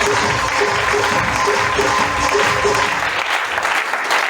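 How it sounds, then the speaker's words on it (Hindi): Loud, sustained applause from a seminar audience in an indoor hall, a dense wash of clapping lasting several seconds before tapering slightly at the end. "जोरदार ताली आपसे"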